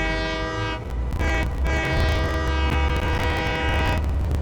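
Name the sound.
train horn in Satisfactory video game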